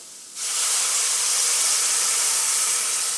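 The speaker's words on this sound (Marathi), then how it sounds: "ह्याच्यामध्ये टाकायचे आपल्याला कोमट पाणी" Warm water poured into a hot pan of matki curry on a low gas flame, starting with an abrupt loud hiss of steam that holds steady and close throughout.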